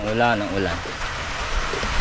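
Steady rain falls on the countryside of eastern Luzon, making a constant, dense hiss all the way through. A voice is heard briefly at the start.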